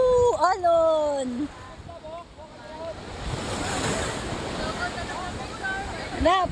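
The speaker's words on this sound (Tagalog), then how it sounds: "Ay na alon!" Ocean waves washing near the shore at an island, a steady rushing surf with wind noise on the microphone, loud throughout while people shout excitedly at the start and end.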